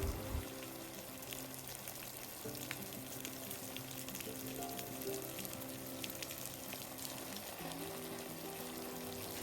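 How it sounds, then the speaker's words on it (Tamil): Water is poured over newly planted vegetable plants in a home garden, making a steady, close splashing hiss for several seconds over a faint tonal background. "இப்போ எல்லாத்துக்கும் வந்து தண்ணி வந்து ஊற்றி விட்டுறணும், முக்கியமான வேலை."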